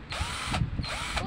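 A newly unboxed electric drill whirs in two bursts, revving up and winding down, loud and close, with voices faintly underneath.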